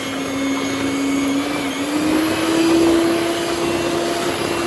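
An electric mixer whisks kiwi cake batter made with oil and a little salt, giving a steady, loud motor whine with a rising pitch throughout, with no talking.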